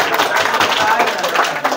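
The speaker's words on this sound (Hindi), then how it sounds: "लड़कों की तरफ से बढ़िया ताली आ रही है" Students in a classroom clap loudly together in a dense, continuous patter of hands.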